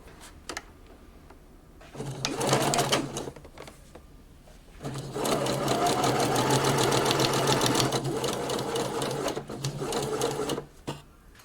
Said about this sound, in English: So back on the sewing machine here, make sure this is nicely lined up, and I'm going to close my side seam.